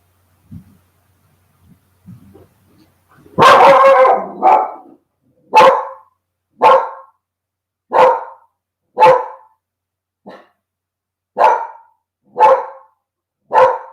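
A dog barking indoors during a yoga session: a burst of barks followed by about eight evenly spaced loud single barks, close by, after a few faint quieter sounds.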